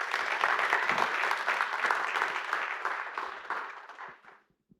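An audience applauds after a talk on budgeting, many hands clapping briskly and fairly close, the sound staying full for several seconds before tapering off and falling to silence.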